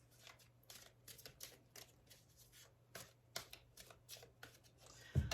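A tarot deck is shuffled and cut by hand, with quiet repeated riffling and flicking card sounds in short bursts over a low steady hum, then a louder handling thump at the end.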